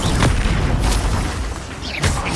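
Casting Glacius in Hogwarts Legacy gives short swishing bursts and crackling pops over a steady rumbling game mix, with a sharper icy flare near the end.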